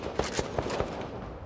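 AK-47 fire in a vampire battle royale game: a quick burst of four or five sharp shots at an even rhythm, loud and close, with no speech.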